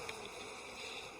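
Honeybees buzzing in an opened hive during an Alaskan beekeeping inspection, a dense continuous drone of many insects close by, steady with no break and no talking.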